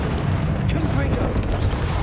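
The Confringo spell in Hogwarts Legacy sets off a loud, continuous booming blast that rumbles for about two seconds, with a voice briefly over it.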